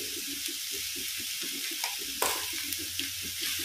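Cabbage frying in hot oil and being stirred, a constant close sizzle broken by rhythmic scraping strokes of the spoon and a few sharper clinks.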